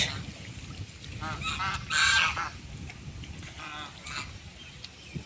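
A female domestic goose honks several times in quick, harsh bursts, close and fairly loud, over a low background murmur.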